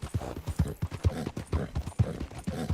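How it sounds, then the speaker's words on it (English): Horse hooves clip-clop at a steady walking rhythm in Red Dead Redemption 2, a close, regular series of hollow thuds repeating through the whole stretch with no other sound over them. "the horse is happy"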